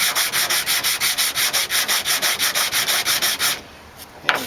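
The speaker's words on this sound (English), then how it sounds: "the hand sanding don't take too long" Hand sanding of body filler on the rear metal panel of a 1968 AMX gives a fast, even rhythm of about twenty rasping back-and-forth strokes, close and loud, before the scraping stops and a quiet shop remains.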